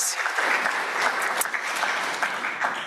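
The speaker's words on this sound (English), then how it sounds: "we will applaud in her honor" An audience at a university undergraduate award and scholarship reception applauds, a continuous, moderately loud clatter of many hands that holds steady for the full few seconds.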